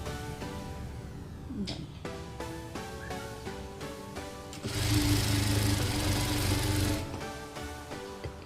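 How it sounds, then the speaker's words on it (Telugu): A tailoring sewing machine stitches along the folded side edge of a dress top, its needle running in rapid steady clatter with short pauses, then a louder, denser whirring stretch before easing back. "ఫోల్డింగ్ మీద మనం స్టిచ్ చేసుకుంటూ రావాలి"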